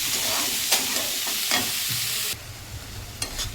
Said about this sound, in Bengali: লাউগুলো দিয়ে দেবো দিয়ে নুন হলুদ দিয়ে একটু ভেজে দেবো